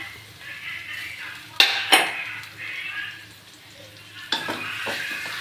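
Ground spice paste and chilli being stirred in a pan for a quail fry: a soft sizzle underneath, with a few sharp metallic clinks and scrapes of the spoon against the pan close by.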